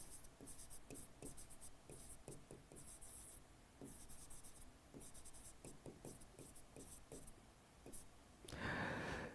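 Writing on a board during a physics lesson on convex mirrors, heard as a run of short, repeated scratchy strokes that come in bursts across the clip, with a louder rustle near the end.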